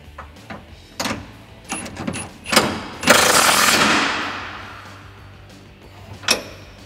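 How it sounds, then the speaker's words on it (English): Socket and wrench work on an exhaust hanger bolt of a 2015-2018 F150 5.0L with a Borla Stinger S-Type rear system: scattered metallic clicks and clanks, then a longer rattling burst that fades out. "now we can retighten this up. Got a 24mm socket and a 21mm wrench."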